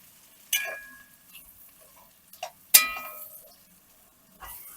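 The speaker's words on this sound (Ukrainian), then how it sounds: "Буду смажити до того стану, поки цибуля не підсмажиться до коричневого кольору." Onion frying in a pot is stirred with a few scraping, clinking strokes of a utensil against the metal, sparse and close, with faint sizzle between the stirs and no talking.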